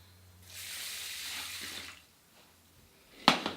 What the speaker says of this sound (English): to that I'm going to add 2 cups of water